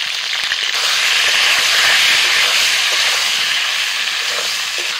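Whole peeled pointed gourds fry in hot mustard oil in a kadai, giving a loud, continuous sizzle and hiss with small popping crackles scattered through it, close up and without talk.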